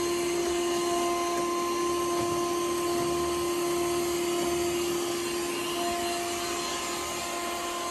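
Yeedi Vac Max robot vacuum cleaner running, a steady motor whir with a sustained high electric whine and fine brushing hiss, constant and close throughout with no talking.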